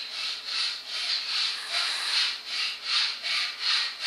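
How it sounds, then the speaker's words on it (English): Hacksaw sawing steadily in the background, about eight even back-and-forth strokes with a rasping, hissy texture, moderately loud and with no talk over it. "Once again, ignore the hacksaw."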